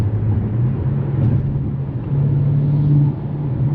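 BMW M5 Competition driving on a wet road, its engine a steady low rumble with faint shifts in pitch, heard from inside the car with no talk.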